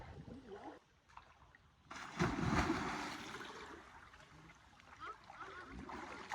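Cool stream water in Iloilo rushes and splashes softly while cousins bathe, a steady watery wash that swells midway and stays fairly close and quiet, with no talk.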